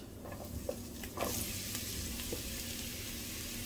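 Mushrooms sizzle in a hot pan of rippling olive oil, a steady bright frying hiss that runs throughout, with a few soft clicks and a louder burst as they land and get moved around.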